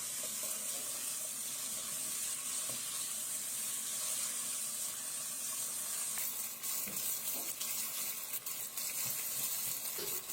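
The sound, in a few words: beef being stirred and fried (bhuna) in a pan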